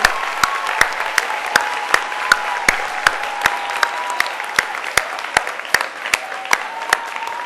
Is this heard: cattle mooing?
no